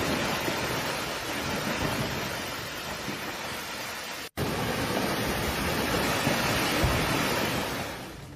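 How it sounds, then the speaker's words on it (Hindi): A torrent of water carrying rocks rushes past as a debris flow during heavy rain, a dense, continuous roar that briefly cuts out for an instant midway. "देखिए ये जोरदार तरीके से पत्थरों का सैलाब आ गया"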